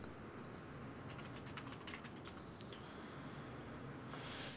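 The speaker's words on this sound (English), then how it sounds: "Whoops, I'm typing on the other thing." Computer keyboard typing during an online Dungeon World tabletop session, a faint, quick run of light key clicks over a soft background hiss, with no talk.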